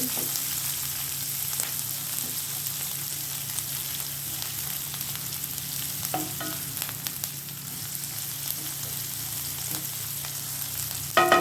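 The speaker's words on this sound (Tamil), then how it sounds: "வெங்காயம் நல்லா வதங்கி வந்துடுச்சு" Onions sizzle and crackle in hot oil while brinjal poriyal is cooked, a steady, moderately quiet frying hiss with occasional stirring scrapes.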